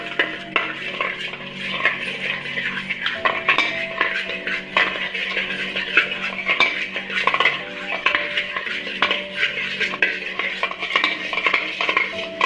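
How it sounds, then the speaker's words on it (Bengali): 500 grams of sour yogurt being stirred in a large metal pot gives continual clinks and scrapes of a utensil against the pot, fairly close and steady, with no talk. "আর দইটাকে আমি এর মধ্যে দিয়ে দিচ্ছি"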